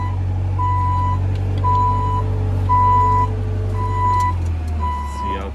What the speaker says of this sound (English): excuse us for the noise. There's a guy with a dozer here.